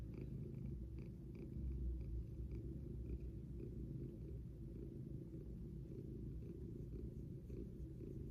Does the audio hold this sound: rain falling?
no